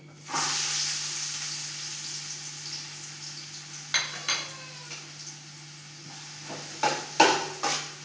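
Sliced onions hiss and sizzle steadily in hot oil in a pan, with a few sharp clinks and scrapes of a utensil against the pan near the end, and no talking.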